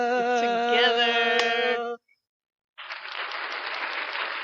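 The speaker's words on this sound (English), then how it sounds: "Now she's going to know when I'm hitting that applause button, you guys" A studio applause button fires a canned sound effect: a bright synthetic tone cuts off into brief silence, then recorded clapping plays steadily and evenly.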